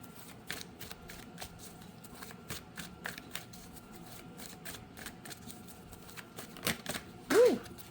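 Oracle cards being shuffled by hand, a steady run of soft riffling flicks and taps close by, with a brief louder rustle near the end.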